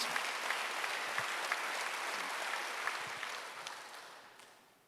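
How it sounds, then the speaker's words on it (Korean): A church congregation at a Wednesday worship service claps together in a dense, steady round of applause that slowly fades toward the end. "박수 하세요. 몸과 마음을 합해서 같이."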